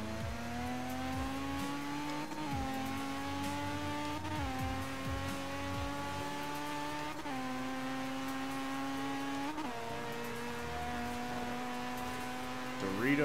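A Mazda FD RX-7 rotary engine wails at high revs while drifting in Forza Horizon 3, its pitch rising and dipping through gear changes with tire squeal, and a voice talking faintly underneath.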